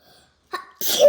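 A child sneezes once, sharp and close, the burst landing near the end after a short quiet stretch and a small earlier breath or sniff.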